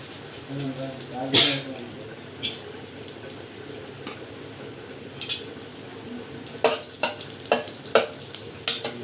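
Ghee heats in a pan, letting off a soft, uneven sizzle broken by sharp clicks and scrapes of a utensil against the metal.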